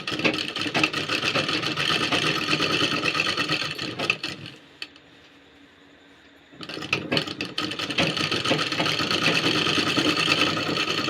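Sewing machine stitching a kameez sleeve, a steady, close, fast-running hum and clatter that stops for about two seconds and then starts again.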